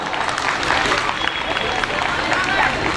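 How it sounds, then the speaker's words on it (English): Crowd applause after a women's wheelchair basketball match, steady clapping mixed with crowd chatter and voices throughout. "A round of applause, please. Well done, everyone."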